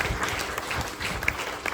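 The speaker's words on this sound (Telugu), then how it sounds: "అదేవిధంగా మన గ్రేట్ సక్సెస్ సపోర్ట్ సిస్టమ్కి ఒకసారి బిగ్ క్లాప్స్ కొట్టండి." Applause from a crowd at a training event in a venue hall, with many hands clapping in a continuous, moderately loud patter and a few sharper individual claps standing out.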